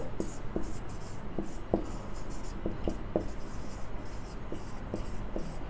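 Chalk or pen writes out a secant trigonometry math solution on a board, giving a string of soft, close taps and scratchy strokes in a steady rhythm with no talking.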